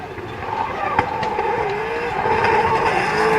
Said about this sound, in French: Il est très énervé lui aussi, Axel François, qui s'élance du coup avec sa